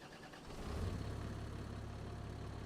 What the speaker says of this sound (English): Oh, I love this tractor.